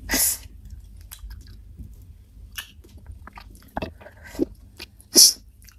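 Someone chews hard cassava with cheese close to the mic, making sporadic crunchy bites and moist clicks with a few sharper sniffs or breaths between them.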